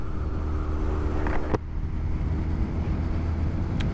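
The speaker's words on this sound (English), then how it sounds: "So we're off to a nice ride, getting the feel of the bike" A Honda CBR1100XX Blackbird motorcycle under way on a ride, a steady close engine drone mixed with wind rushing over the microphone.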